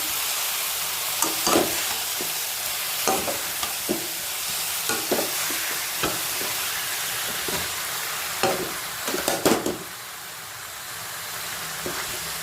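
A spoon stirs a spiced vegetable mixture frying in a pan for a meatless biryani, with a steady sizzle under repeated scraping knocks against the pan, close and alone.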